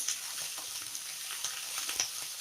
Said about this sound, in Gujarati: કેપ્સિકમને પણ આપણે તરત ચડવી દઈશું.